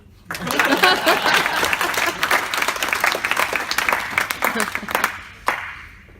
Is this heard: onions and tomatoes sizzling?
no